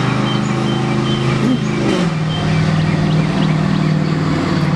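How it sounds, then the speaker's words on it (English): A school bus drives past on a residential street, its engine rumbling loud and close with a deep steady drone that shifts in pitch midway as it goes by, heard alone without talk. "No lie, that was a school bus."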